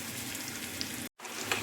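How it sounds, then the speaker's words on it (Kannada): Tempering of spices with chilli powder and a piece of ginger sizzles steadily in hot oil for a chana masala, a close, continuous crackling hiss that drops out briefly before resuming. "ಈಗ ಒಗ್ಗರಣೆ ರೆಡಿ ಆಯಿತು."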